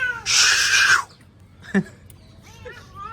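A cat meows loudly once in a long drawn cry near sparrows in a Gujarati household setting, followed by a short sharp call and faint chirps, with quiet background noise.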